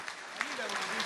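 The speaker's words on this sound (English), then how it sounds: "आप सब के लिए थोड़ा सा clap या तालियां, पुरजोर तालियां अगर हो सके" Audience applause at a Saraswati Puja event, a moderate wash of clapping with a voice speaking over it.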